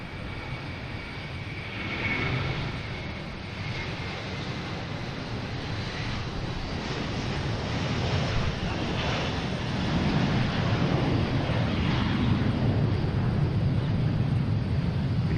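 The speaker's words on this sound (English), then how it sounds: "We have a Delta A380 heading to Amsterdam." Delta Airbus A380 jet departing Boston Logan for Amsterdam, a steady broadband engine roar that builds gradually and stays loud and sustained throughout, heard from the ground at some distance.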